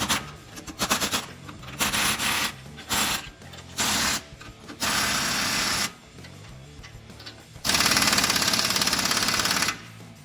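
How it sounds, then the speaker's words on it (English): Pneumatic rattle gun driving wheel nuts on a Toyota N80 Hilux during a wheel and tyre fit, loud rapid hammering bursts repeated in short runs with brief pauses, the last burst longer and harsher. "We'll grab the rattle gun and we'll just do them up evenly so they all pull down at the same time."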